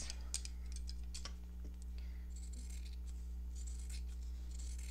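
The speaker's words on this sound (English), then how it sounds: "now that I've cleaned my scissors, it's way better" Freshly cleaned scissors cut fabric while a sewing roll is being made. Crisp snips and clicks come at irregular intervals over a steady low room hum.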